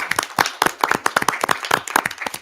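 Small group of board of education meeting attendees clapping after a motion passes, a sparse irregular patter of individual claps close by, several distinct hands rather than a full crowd.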